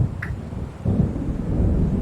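Deep rumbling thunder from an approaching storm in the video game Alan Wake Remastered, swelling into a loud, sustained low roll with a faint crackle, heard without any talking.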